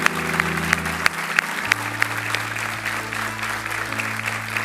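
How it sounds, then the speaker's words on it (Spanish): A church congregation breaks into loud, sustained applause for its prayer team, steady clapping from many hands filling the hall, with a low sustained tone underneath and no one talking over it. "¿Por qué no le dan un fuerte aplauso a este equipo?"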